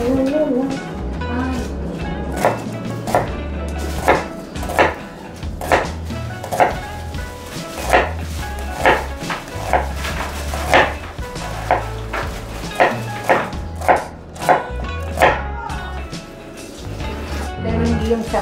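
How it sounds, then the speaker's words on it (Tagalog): An onion is chopped into small pieces on a board, giving a steady series of close knife taps at a relaxed rhythm, while someone talks over much of it. "ang hiwa naman ng sibuyas ay maliliit lang din"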